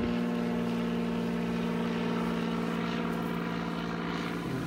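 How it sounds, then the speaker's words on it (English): Seaplane passing overhead on a clear morning at a North Naples, Florida beach, its propeller engine a steady, loud droning hum that fills the whole stretch, rising slightly as it passes. "seaplane flying overhead"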